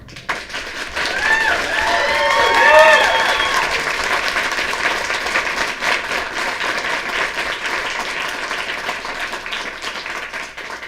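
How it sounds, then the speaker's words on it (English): Sustained applause from an audience at a community college board meeting, steady and fairly loud throughout, with brief whistles or vocal cheers early on and some voices faintly mixed in. "you're getting a resounding clap in the background"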